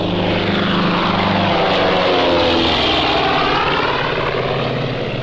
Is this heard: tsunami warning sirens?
no